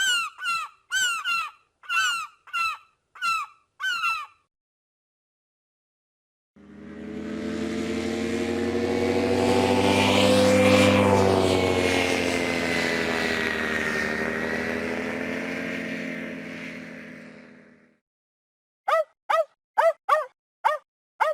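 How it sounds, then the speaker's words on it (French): A children's seaside video game, Adiboud'Chou à la mer, plays three sounds in turn: a run of short seagull cries, then a long swelling airplane engine drone, then a quick series of dog barks. "Le cri d'une mouette, un moteur d'avion et un chien qui aboie."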